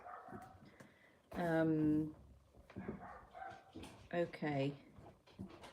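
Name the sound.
dog barking and whimpering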